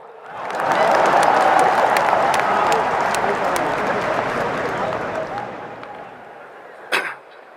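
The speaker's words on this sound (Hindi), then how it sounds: "ठोको ताली" An audience bursts into loud applause that swells quickly, holds for several seconds, then gradually thins out, ending with a sharp knock or thud near the close.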